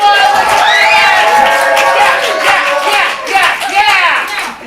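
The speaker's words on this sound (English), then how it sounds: "Everyone cheer wildly" An audience at a youth improv comedy show cheers and shouts wildly in a loud, sustained burst of mixed voices that rises and falls, with some clapping underneath.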